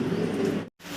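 Pigeons coo at a pigeon farm, a close, low, steady murmuring coo lasting under a second before a brief cut to silence and a quieter continuation.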